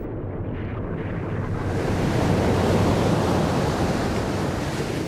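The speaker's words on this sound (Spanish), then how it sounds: "olas gigantescas provocadas por la explosión arrasaron los puertos minoicos" Giant ocean waves driven by an ancient volcanic island explosion crash toward Minoan ports, heard as a steady, loud roar of surf and rushing water that swells in the middle and fills the whole stretch with no voices.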